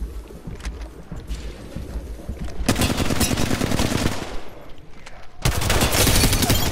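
Rapid automatic gunfire from the battle royale video game Apex Legends bursts out in two long sustained volleys, loud and dense, with brief gaps of quieter game ambience between them.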